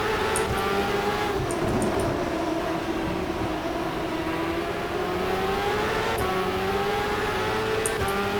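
Superleague Formula race car engines roaring around Donington in rFactor, a steady high-pitched drone with shifting pitch as several cars run close together, loud and continuous with no talking.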